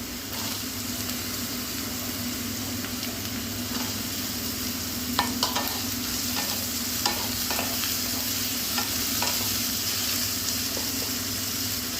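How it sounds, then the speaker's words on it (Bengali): Potatoes sizzle steadily in a pan with garlic and onion already fried, a constant close hiss broken by occasional scraping and clinking of a spatula stirring. "আলুটা একটু ভাজা হোক"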